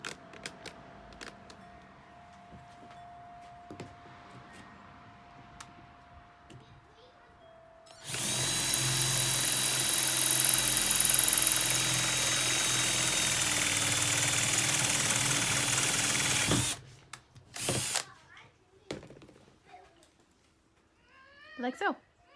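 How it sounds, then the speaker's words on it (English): A power drill with a 1/4-inch bit whirs loudly and steadily for several seconds as it enlarges a hole in a five-gallon bucket, then stops, followed by a few clinks and rustles. "make this hole bigger with the 1/4-inch drill bit"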